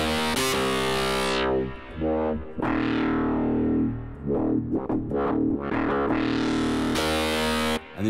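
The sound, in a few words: distortion plugin effect on guitar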